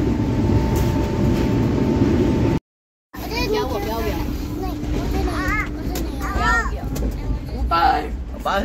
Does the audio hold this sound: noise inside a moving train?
yes